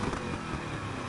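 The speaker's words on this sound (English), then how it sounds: "I'll just be showing off, how the engine sounds." The V8 engine of a Nissan GT-R runs with a steady, broad rumble, droning continuously at moderate level without clear distinct revs or voices.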